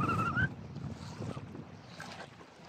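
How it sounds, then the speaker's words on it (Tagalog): Wind blows steadily across the microphone in a moderate rush, with a brief louder gust and faint whistling at the start. "Lakas ng hangin."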